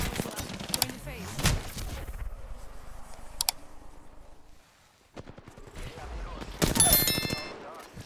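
Gunfire in a video game squad fight: bursts of rapid automatic shots and sharp single cracks, loud and close, broken by a short lull, with voices and game sounds between bursts.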